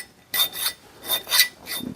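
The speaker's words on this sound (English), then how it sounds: "I'm just going to take a file and clean this up" A hand file rasps against the steel of a double bit axe head in several short back-and-forth strokes, close and crisp with brief pauses between them.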